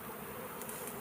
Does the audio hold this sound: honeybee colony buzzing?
yes